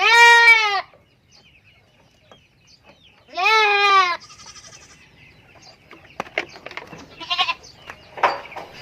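Three-month-old goat kids give two loud, wavering bleats close by, separated by a pause, followed by quieter rustling and a few softer, distant calls.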